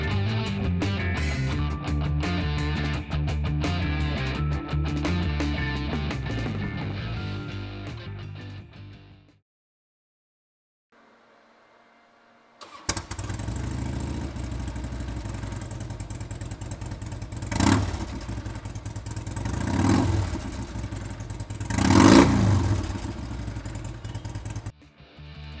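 A 2005 Harley-Davidson Road King Classic engine idles with a steady low rumble, then goes quiet after a brief pause, restarts and gives several distinct revs, loud and close.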